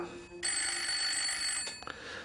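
A telephone rings in the small hours of the morning, a steady electronic ring with bright repeating tones that starts abruptly and holds for about a second and a half, fairly close and clear with no talk over it.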